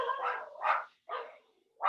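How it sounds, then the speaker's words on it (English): Dogs bark in a handful of separate, moderately loud yaps spaced about half a second apart, heard alone at close range. "While you listen to the relaxing music of my dogs barking."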